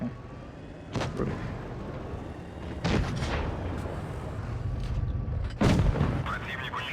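Tank cannon shots in World of Tanks Blitz with an IS-2Sh, three heavy booming blasts spaced a couple of seconds apart over a constant engine rumble.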